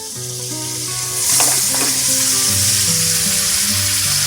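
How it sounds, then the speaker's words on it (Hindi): Mutton fries in masala for a mutton korma, giving a loud, close, continuous sizzle that swells a little after the first second and then stays steady, with no speech. "अब इस मसाले में हमें इसको 5 मिनट तक फ्राई करेंगे।"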